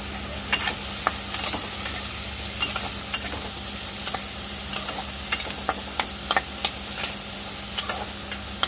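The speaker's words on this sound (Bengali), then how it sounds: "ডিমটা হালকা ভেজে নেব" Eggs frying with aubergine and potato in a pan, a continuous sizzle with regular sharp scrapes of a spatula stirring at a steady rhythm, close up with no talking.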